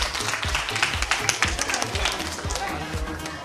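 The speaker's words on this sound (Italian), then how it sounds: "Eccola, un bel applauso." Clapping from an audience at a children's dance recital backstage, a short burst of lively hand claps mixed with crowd noise and speech over it, close and fairly loud.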